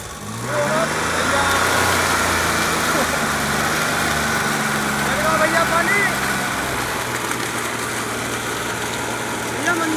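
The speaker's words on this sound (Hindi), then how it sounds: "आ रही है भैया गाड़ी की आवाज" A Maruti 800 engine repurposed to power a tubewell pump runs steadily nearby, a loud, constant idling hum with a slight pitch shift partway through, while someone talks over it.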